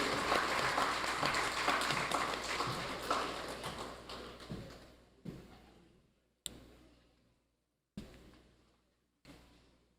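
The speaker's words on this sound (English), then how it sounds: "So let us applaud our students for their achievement this year." An audience at a school ceremony for exam results claps in a dense, faint burst of applause that fades out, followed by a few isolated single claps with silence between them.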